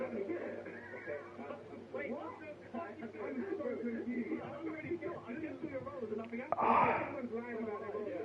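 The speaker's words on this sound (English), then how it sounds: "Just hear a bit of a sneeze going." A single short sneeze bursts out once near the end, over steady ongoing talk during a sim-racing league broadcast of a race at Monza.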